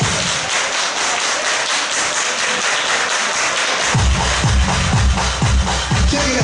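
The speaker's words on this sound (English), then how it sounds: "Everybody clap your hands." A crowd claps along at a birthday dance party in Oakland, California, with dense, steady handclaps, shuffling feet and heavy rhythmic thumps joining partway through.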